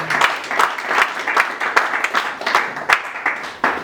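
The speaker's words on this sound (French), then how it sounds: "Si vous pouvez d'abord applaudir pour nous." An audience at a community anti-poverty association event claps, with several distinct sharp claps punctuating a lively but fairly small round of applause.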